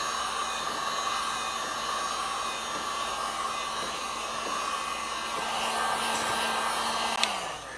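A heat gun blowing hot air onto a snowmobile knee pad panel during an Arctic Cat Catalyst install, giving a steady, loud whooshing roar that holds constant throughout, with a faint click near the end.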